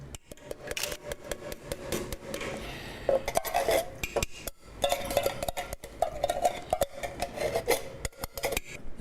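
Canned crushed tomatoes go into a cooking pot with sardine meatballs, heard as irregular metallic scraping, rasping and clinking of a utensil against the pot, loud and close, in uneven bursts without talk.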